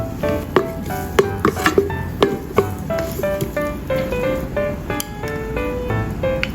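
Ginger slices being stir-fried in a wok, with repeated sharp metallic scrapes and clacks over a steady sizzle, close and fairly loud.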